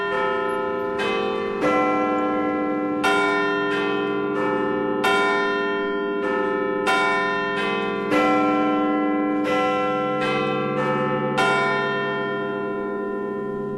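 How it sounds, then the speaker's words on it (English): Big Ben, a large clock tower bell, tolls repeatedly at a slow, steady pace, each loud ringing strike leaving a long humming decay into the next. "I just want to hear just the bell."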